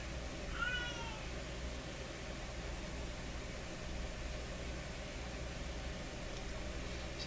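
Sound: cat meowing

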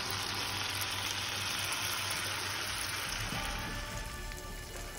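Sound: scallops searing in a hot cast iron skillet

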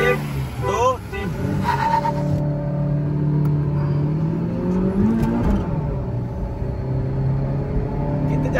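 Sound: Maruti Swift and Honda City cars accelerating in drag race

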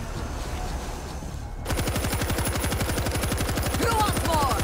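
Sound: big gun firing in video game World War Z

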